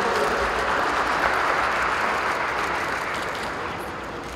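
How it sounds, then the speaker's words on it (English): Audience applause after a question-and-answer session at a talk on junk food, a loud, thick roar of clapping that holds steady and tapers slightly toward the end. "A big round of applause, please."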